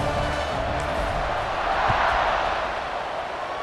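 Stadium crowd in EA Sports College Football 26 before a kickoff, a broad steady roar of cheering fans at moderate distance, continuous and full throughout with no distinct voices.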